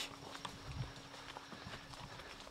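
Horses walking through a jungle river in Sumatra, scattered hoof clops and splashy footfalls at an uneven pace over a steady flowing-water hiss, fairly close but quiet.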